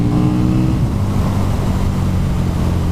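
A 2017 KTM 1290 Super Duke R twin engine drones loud and close, a deep rumbling roar with a brief rise and settle in pitch over a few seconds.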